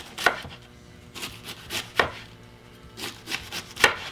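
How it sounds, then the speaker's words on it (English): A knife chopping through vegetables for a no-mayo citrus slaw on a cutting board, five or six separate sharp cuts spaced about a second apart, close and alone. "if you don't want really long ribbons, you could just take your knife and cut it in half like that"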